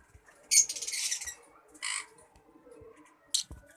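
Albino black-eye lovebirds in an aviary setup give a few short, harsh squawks and chirps, with bursts near the start, in the middle and near the end, set against quiet background noise.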